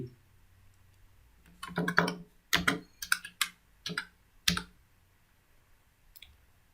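Fingers type on a computer keyboard in short bursts of quick, close clicks with brief pauses between clusters, then a last lone tap.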